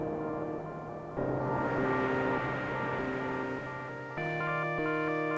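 Digital oscillators of a Dreadbox Polyend Medusa synthesizer, played dry without effects, hold bright buzzy sustained chords that step to new pitches a few times, steady and clear with no voices.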